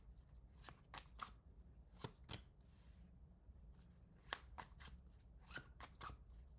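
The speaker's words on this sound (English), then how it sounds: "Sorry about the shuffling. I know it sounds crazy." A deck of tarot cards is shuffled in quiet, irregular riffles and snaps, sharp close clicks spaced across the stretch with short pauses between bursts.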